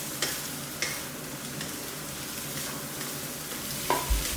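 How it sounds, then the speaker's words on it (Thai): Onion and tomato stir-frying in a pan over medium heat for pork fried rice: a steady soft sizzle with a few sharp spatula taps against the pan, quiet and close, no talk. "หอมหัวใหญ่ครับ แล้วก็มะเขือเทศครับ ผัดรอจนผักเริ่มสลดสักครู่นึงก่อนครับ"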